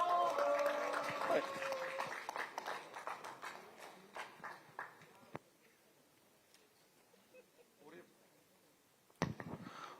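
A rally crowd claps for a speaker, the applause loud at first and then thinning into scattered claps that fade out, with a few sharp knocks and a brief voice near the end.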